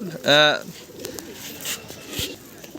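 A single close pigeon coo sounds out, followed by soft rustling and faint background noise.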